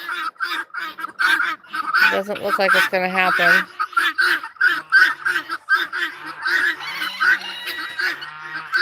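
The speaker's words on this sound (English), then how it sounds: "there's a couple of ducks up underneath the magnolia tree" A couple of ducks under a magnolia tree on a poultry farm with guinea fowl and hens nearby quack repeatedly, loud and close, with a burst of rapid calls early on, while someone talks throughout.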